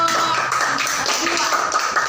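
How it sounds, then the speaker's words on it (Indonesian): A classroom of students clapping for a presenting group, short uneven claps with some voices underneath. "kita beri tepuk tangan untuk kelompok 2"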